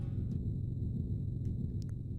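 Earthquake rumble in the video game Fate/Grand Order: a loud, continuous low drone held throughout, with a few faint high ticks scattered on top and no voices.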